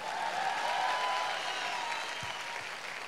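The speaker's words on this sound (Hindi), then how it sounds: "तालियां तो बजा दो यार।" An audience at a motivational talk claps in steady, dense applause that carries on throughout and fades slightly near the end.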